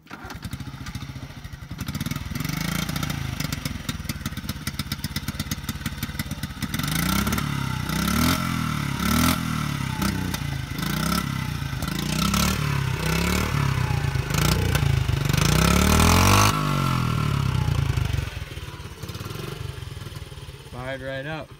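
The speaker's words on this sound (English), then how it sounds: "Fired right up. Not surprised it's a Honda." A small Honda minibike engine, a 50cc trail bike, starts up and runs with a steady buzzing putter, rising and falling in several revs and blips, close and loud throughout.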